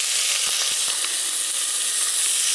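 Onion and carrots sizzling in a hot Sunbeam 16-cup rice cooker, a steady close frying hiss with a few soft low knocks near the start and no talking.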